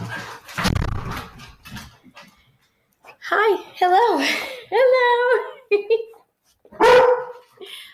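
Dogs bark and yip right in front of a camera indoors, making short bursts of close, loud calls between brief pauses while a person greets them.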